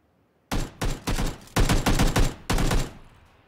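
Gunfire in the shooter game Battlegrounds: a string of loud, close shots in uneven bursts, roughly nine reports spread over a few seconds, fading into a quiet tail.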